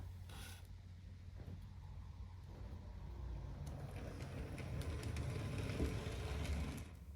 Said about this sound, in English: stalling happened roughly half of the time the loco passed through the point at low speed